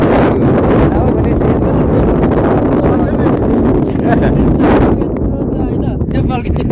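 Strong wind in Upper Mustang roars and buffets the microphone in a loud, continuous rumble throughout, with a brief lull near the end.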